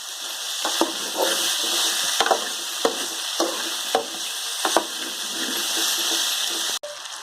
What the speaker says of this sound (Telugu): ఇవి వేసి బాగా వేయించుకోవాలండి